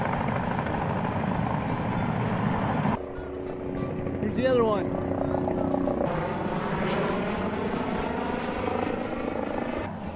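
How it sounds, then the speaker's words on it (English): Steady, loud rotor and engine roar from a passing firefighting helicopter carrying a bucket over a forest fire fills the whole stretch, with someone speaking briefly over it. "So we've had three different helicopters come by. This one actually has a bucket on it."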